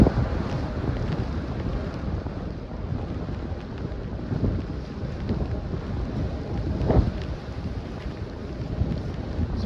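Strong wind gusting and buffeting the microphone on a chairlift at Whistler, British Columbia, a loud, continuous roar that swells and surges without letup.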